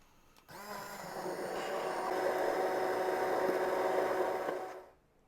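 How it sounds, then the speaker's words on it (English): A motorized immersion blender starts abruptly and whirs steadily at close range through turkey gravy for several seconds, its pitch wavering slightly, then cuts off. "Here it is, immersion blender."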